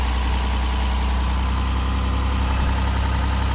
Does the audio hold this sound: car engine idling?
yes